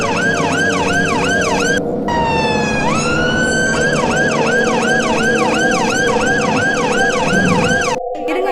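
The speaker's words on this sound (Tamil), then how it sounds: "ஆம்புலன்ஸ் வருது." A loud wailing ambulance siren cycles steadily, briefly shifting to a rising sweep, then resuming its rapid up-down pattern, close and continuous.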